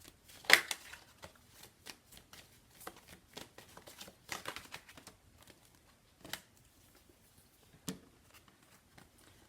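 Tarot cards being shuffled to draw another card, giving quiet, close riffling and flicking bursts with irregular sharp slaps and pauses in between.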